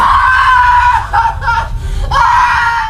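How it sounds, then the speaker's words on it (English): A woman locked in a storage room screams desperately in The Divide, long, loud, wavering shrieks that break off and resume, close and intense over a low rumble. "she continues to scream desperately"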